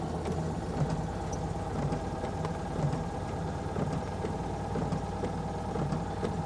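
A Citroën 2CV sits at a steady engine idle, a dense low rumble holding constant, while its windscreen wipers run on a wet screen with faint repeating mechanical sweeps riding on top. No one speaks.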